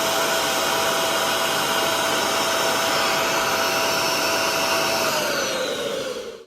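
A Bissell SpotClean Pro carpet cleaner runs at full power, a loud, steady broadband roar with a thin whine on top that holds for several seconds and then winds down abruptly at the end.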